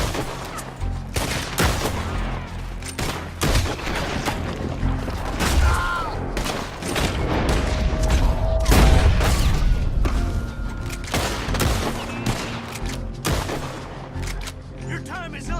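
Heavy gunfire from a Red Dead Redemption 2 shootout, with repeated loud bursts and overlapping shots throughout, some booming impacts mixed in, and voices shouting over the fighting.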